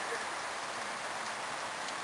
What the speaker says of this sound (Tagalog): Ayan po si Manny Costales naliligo sa ulan.